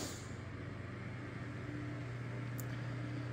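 A KDK Custom Deluxe oscillating electric fan with a freshly lubricated gearbox runs on high speed, giving a steady, continuous motor hum with broadband airy whoosh, alone and unchanging throughout.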